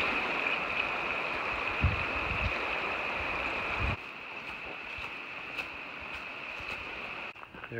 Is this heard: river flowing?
yes